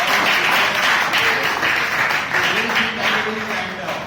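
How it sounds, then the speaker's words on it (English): An audience at a Toastmasters club meeting claps in a steady, dense burst of applause that carries on for several seconds before easing slightly at the end. "So let's have a huge round of applause"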